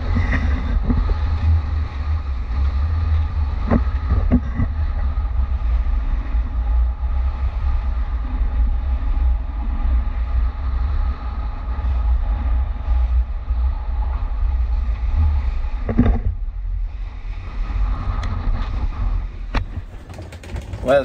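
A sailboat runs fast in force 5 to 6 wind on a solo passage from Ireland to Madeira, with a constant heavy low rumble of wind and water, occasional knocks and someone talking over it.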